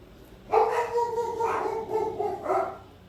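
Dogs bark and howl in drawn-out, whining tones, three rising bursts in quick succession, close and fairly loud over a low background hum.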